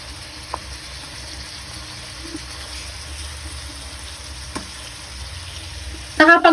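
Chicken gizzards frying in a pan give a steady, soft sizzle throughout, with a faint clink or two of stirring, and a louder burst of scraping and clatter at the very end.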